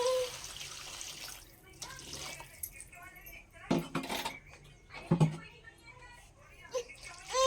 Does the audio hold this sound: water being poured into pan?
yes